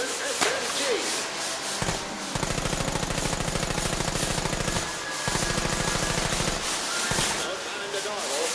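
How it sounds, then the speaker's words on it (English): Fully automatic Johnson SMG firing in a VR game, two long sustained bursts of rapid, evenly spaced shots separated by a short pause, loud and close. "match its fight with the strength of our Fully automatic Johnson SMG"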